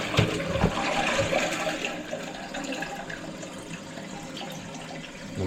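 A Geberit Sigma 70 concealed-cistern toilet flushes with a steady rush of water that begins with a sharp surge and slowly tapers off as the bowl refills, close and fairly loud, with no talking.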